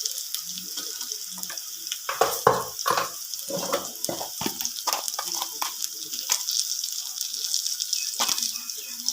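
Potatoes with turmeric stir-fried in a pan: soft sizzling beneath repeated scraping and stirring strokes of a utensil against the pan, close and moderately loud, with no talk.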